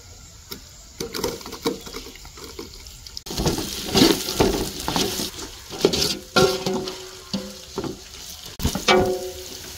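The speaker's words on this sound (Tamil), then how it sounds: "இஞ்சி வெள்ளைப்பூடு நல்லா பொன்னிறம் வர காட்டி நல்லா வறுத்து எடுத்துங்க." Ginger and garlic frying in a pan for Dindigul biryani, with uneven bursts of loud crackle and hiss, spatula scrapes and clatter close by, partly sounding like running water.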